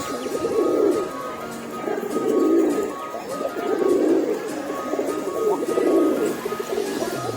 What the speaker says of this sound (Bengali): নর চেঞ্জ করে দিচ্ছি, আরেকটা নর দিছি, দেখেন নরটা ডাকতেছে